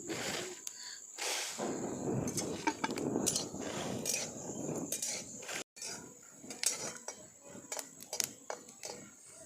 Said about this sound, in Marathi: तसे भाजत भाजत आल्यावर आपल्याला थोडंसं तेल टाकायचं आहे त्याच्यात खरपूस भाजून घ्यायचे तेल टाकून